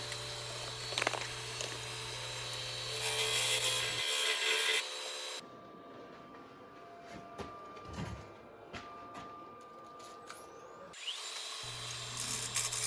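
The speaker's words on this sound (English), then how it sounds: "I'm just taking the epoxy off the base here, and I'm going to true up the tenon" A lathe spins a beech burl hollow form while a tool scrapes and cuts epoxy off the base to true the tenon, a steady close grinding and rubbing that cuts out midway and then resumes.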